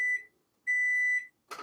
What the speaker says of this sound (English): Oh, that's my timer.